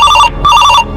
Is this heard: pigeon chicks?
no